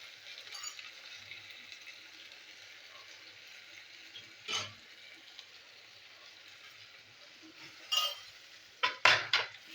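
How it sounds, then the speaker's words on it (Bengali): Spice masala is sautéed in a pan, quiet between strokes, with several sharp metal clinks and scrapes of a utensil against the pan that come more often toward the end. "তো মশলাটা আমি কষিয়ে নেবো।"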